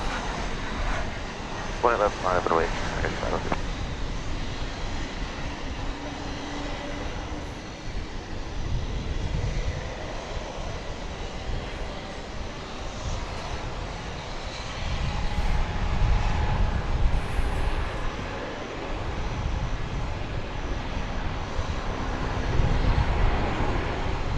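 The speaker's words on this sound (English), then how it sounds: "Now this plane is on the move." Airplane taxiing on the ground at DFW Airport, a steady roar of jet engines that swells and fades with low rumbles, wind buffeting in the background and some talk over it.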